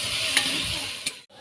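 Vegetables and spices stirred in a cooking pot, a short burst of soft sizzling and scraping with a couple of brief clinks of the spoon, ending in a moment of near silence.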